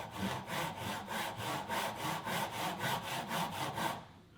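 A hand saw cuts through a piece of wood in steady back-and-forth strokes, about a dozen rhythmic rasping pulls close to the listener, then stops abruptly near the end.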